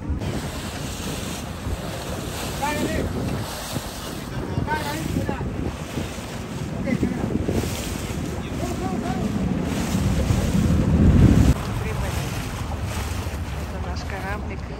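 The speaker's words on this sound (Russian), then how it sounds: "Это наш кораблик." Steady wind buffeting the microphone over the low rumble of a boat's motor and rushing water at sea off Ko Larn island near Pattaya, growing louder toward the end.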